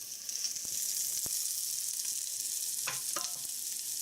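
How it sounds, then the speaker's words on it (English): Shrimp stir fry sizzling steadily in a pan while being stirred, with a few scraping clicks from the utensil against the pan over a continuous hiss. "I'm going to stir that up."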